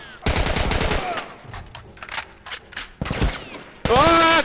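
Assault rifle fire in The Last of Us sounds in several loud, close bursts of rapid shots with short gaps between them, and a final sustained burst at the end.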